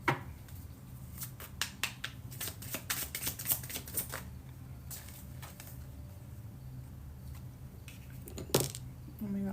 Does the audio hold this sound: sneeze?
no